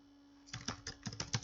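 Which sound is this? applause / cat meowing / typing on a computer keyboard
typing on a computer keyboard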